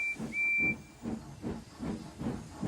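A steam engine gives a short, sharp whistle, then a rhythmic chuffing hiss of steam pulses steadily and close by.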